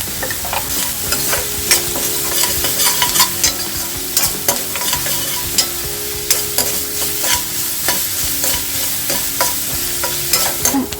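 Onion, ginger and garlic sautéing in a pan, a continuous loud sizzle with rapid, irregular spatula clacks and scrapes against the metal throughout.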